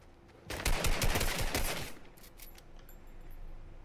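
Rapid automatic gunfire in a Fortnite match, a dense burst of shots lasting about a second and a half up close, then trailing off into scattered distant pops.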